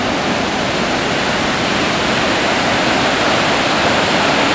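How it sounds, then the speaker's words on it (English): Burney Falls waterfall pours out from beneath a dry rock face, a loud, steady broadband roar of falling water that holds constant and close throughout. "is water pouring out from underneath what looks like, certainly it is, a dry face of rock above it"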